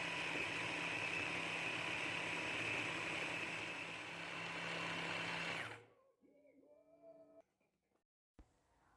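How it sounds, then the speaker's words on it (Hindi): A blender grinding a fine kimchi paste whirs loudly and steadily for several seconds, then shuts off abruptly, leaving a few soft clinks and scrapes. "आप ब्लेंडर में डाल के ब्लेंड कर दें"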